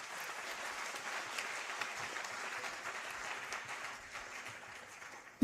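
An audience claps steadily and continuously after an inaugural lecture, a dense, even wash of applause from a crowd in a hall, moderately distant and without talk.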